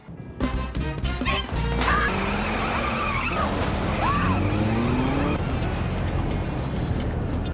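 A car rams into a money crate with a sharp impact, then its engine roars and tires squeal as it speeds off, the loud rumble and whine holding steady to the end.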